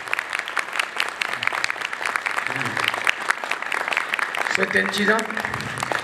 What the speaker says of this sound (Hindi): ताली बजाओ यसू दे नाम ते